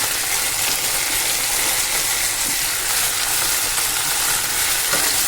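Pirandai and garlic sautéing in hot sesame oil, a loud, dense, continuous sizzle with faint stirring scrapes running throughout, no voices.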